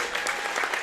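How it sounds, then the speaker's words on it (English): A gym crowd applauding seniors on senior night at a varsity high school basketball game between Johnston and Ankeny, a short burst of dense, steady clapping filling the space. "get a well-deserved round of applause here on senior night"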